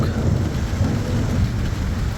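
Heavy rain with hail pours steadily with a deep, continuous thunder rumble underneath, loud and close, with no voices.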